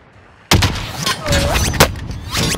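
Gunfire in Call of Duty: Modern Warfare cracks out in several loud, sharp shots after a half-second hush, followed by a mix of blasts and battlefield noise with a brief voice shout.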